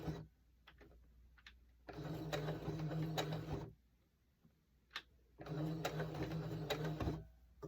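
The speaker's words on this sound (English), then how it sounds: "I'm going to sew a little teeny bit" Sewing machine stitching fabric coasters in two bursts of rapid, steady mechanical whirring, each a couple of seconds long, separated by quiet pauses with faint handling clicks; close and moderately loud.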